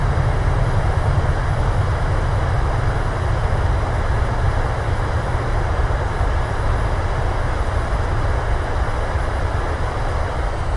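Airliner thrust reversers roaring on landing in Microsoft Flight Simulator, a loud continuous broadband engine rush that holds steady throughout with no voices.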